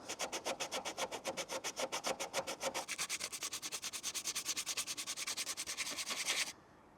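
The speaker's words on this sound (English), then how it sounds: "So let's get some sandpaper on that." Sandpaper worked by hand over a damaged body panel on an L322 Range Rover, fast rhythmic back-and-forth strokes, close and steady, shifting to quicker shorter strokes midway and stopping abruptly, no talk.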